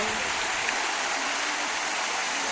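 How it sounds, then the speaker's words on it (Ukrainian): Streams of water from a public fountain splash steadily on a hot sunny day, a continuous close hiss of falling water with no pauses. "Зверніть увагу, які потоки води, як він грає на сонці."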